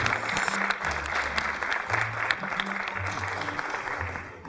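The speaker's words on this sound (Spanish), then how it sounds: "Fuerte el aplauso." Sustained audience applause greets performer Alberto Villarreal in a university theatre, a steady dense wash of clapping with low murmurs of voices underneath throughout.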